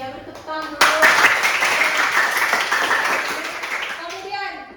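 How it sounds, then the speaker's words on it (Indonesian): Classroom of students clapping together, a loud burst of many hands that starts abruptly and fades after a few seconds, with a teacher's and children's voices just before and after. "Beri tepuk tangan dulu."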